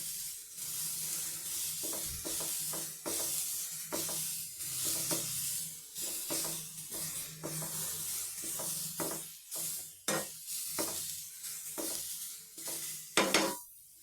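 Grated carrot fries in a pan for carrot halwa, with soft sizzling under frequent scraping and stirring strokes that come in uneven bursts, some sharp and close.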